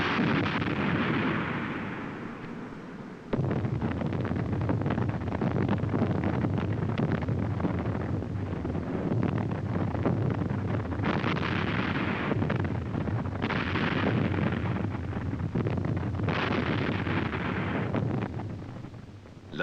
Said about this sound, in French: L'artillerie soutient le combat de l'infanterie.